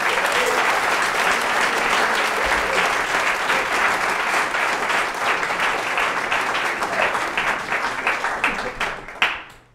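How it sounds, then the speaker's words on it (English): Sustained applause from an indoor audience at a chamber music program for the students, dense steady clapping that carries on for nearly ten seconds before thinning to a few scattered claps and stopping. "So a big round of applause for all the students."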